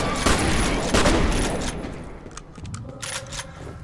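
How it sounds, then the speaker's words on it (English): Shotgun fired in the FEAR video game: several loud gunshot blasts in quick succession with clattering mechanical reload sounds between them. "Yeah, this shotgun's a lot of fun to use."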